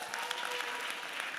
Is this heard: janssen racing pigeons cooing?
no